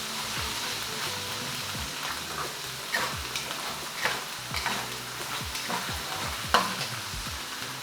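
Fermented shrimp paste (bagoong) fries in a hot wok with a bright, crackling sizzle, broken by repeated scraping stirs and a sharper knock near the end.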